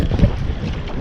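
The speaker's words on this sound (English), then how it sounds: "A little windy today." Wind buffets a microphone on a Hobie kayak out on the saltwater at Gasparilla, Florida, a close, low rumbling gust with a brief stronger thump, steady and unbroken over one second without talk.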